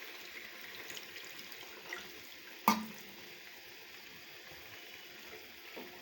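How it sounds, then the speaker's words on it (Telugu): Water runs steadily and faintly into a pot of jalla fish curry, with a single sharp clink partway through and no voices. "కొంచెం వాటర్ యాడ్ చేస్తున్నాను"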